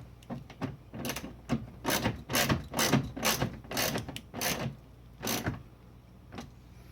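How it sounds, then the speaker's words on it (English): A screw driven back into the front bumper of a Toyota Prius, a series of close ratcheting clicks in short bursts with brief pauses between turns, no talking. "On both sides, let's go ahead and put this screw back in."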